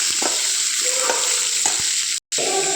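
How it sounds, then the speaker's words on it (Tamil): Curry leaf chutney ingredients with added tamarind are sautéed in a pan, giving a continuous close sizzle with scraping stir strokes and a brief break near the end, with no talking. "இப்போது நல்லா வதக்கி எடுத்துக்கலாம்."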